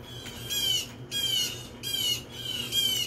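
Birds squawk in shrill, repeated bursts at Sea Trail, Sunset Beach, four harsh calls spaced evenly over steady outdoor background noise.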